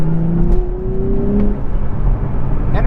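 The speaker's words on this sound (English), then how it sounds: "And it makes a good sound while doing it." Nissan Z with a 400-horsepower twin-turbo V6 pulling hard, a loud, rising engine note with a steady climbing whine and road rumble and no voices.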